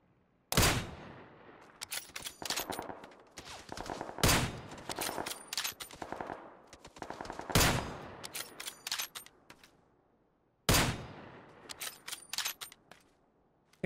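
PUBG gunfire on an Xbox Series X, four separate bursts of sharp rapid shots, each opening with a loud crack and then rattling on for a few seconds before quiet gaps.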